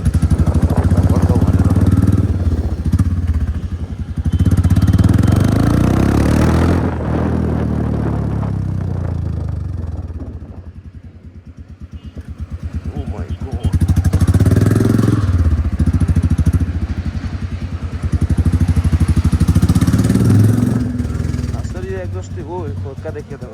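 A Royal Enfield Bullet motorcycle fitted with an Akrapovič exhaust rumbles loudly in long revving swells that ease off and build again, with someone talking over the engine throughout.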